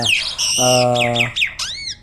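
Jalak starlings at a starling farm give a quick run of squawks and whistled, rising and falling calls, close and loud, with no talking.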